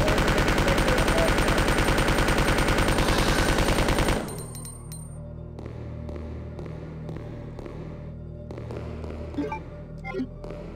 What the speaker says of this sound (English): Nothing counters lickers quite as effectively as the submachine gun in this game.